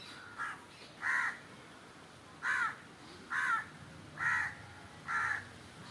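A crow near a pile of rice calls out in six spaced, harsh caws, clear and fairly close against a quiet outdoor background.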